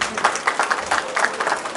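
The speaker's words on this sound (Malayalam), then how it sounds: "അതിന്റെ പേരിൽ നല്ലൊരു കയ്യടി പുറകിൽ നിന്ന് തന്നെ ആദ്യം വരണം" Audience clapping at the pooja ceremony for the Malayalam film Shukran, a brief burst of steady applause from the crowd, fairly loud and even throughout with no talk over it.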